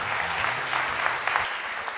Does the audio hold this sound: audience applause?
yes